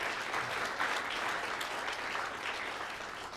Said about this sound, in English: please give a warm round of applause to Professor Jim Mallory.